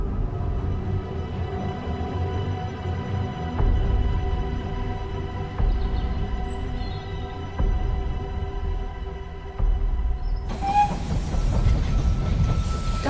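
A train pulls into a station in the They Are Billions strategy game, with a steady rumbling and clattering rail sound, periodic heavier thuds, and a brighter burst of noise near the end as it arrives.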